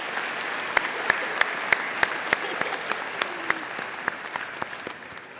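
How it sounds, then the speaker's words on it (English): An audience at a high school commencement ceremony claps steadily for several seconds, a dense, even spread of many hands in a large hall, with no cheering voices. "let's give him another round of applause."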